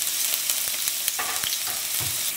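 Finely chopped ginger and garlic fry in about two tablespoons of hot oil, a dense continuous sizzle with soft crackles and occasional stirring scrapes, close and steady with no talking.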